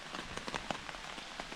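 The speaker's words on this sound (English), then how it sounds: "Well, it's raining. Tarp's gonna get really loud" Big raindrops patter on a taut tarp at a camp along the Long Trail, close, uneven taps and thuds over a soft steady rain wash, with no talking.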